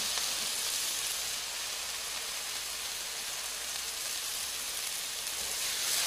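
Noodles drained in a colander hit an oiled pan and sizzle loudly, a steady, dense hiss of frying that holds evenly throughout with no voices over it.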